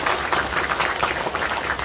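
Audience applause at a gathering, a steady dense patter of many hands clapping at moderate loudness, fairly close and uninterrupted for a couple of seconds.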